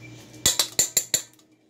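A metal fork chopping through a small pat of butter in a dish while cooking, five quick clinking taps in a row, close and crisp, then quiet.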